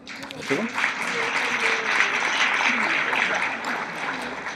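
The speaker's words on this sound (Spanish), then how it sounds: "Lo recibimos con un aplauso, por favor." Audience applause welcoming a guest speaker at a university medical talk on cognitive decline, a dense wash of clapping from a seated crowd, steady throughout with some voices mixed in.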